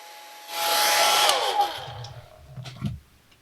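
A hair dryer switches on and blows over a watercolor painting for about a second and a half of loud airy whoosh, then winds down while soft low rustles and handling sounds follow close by.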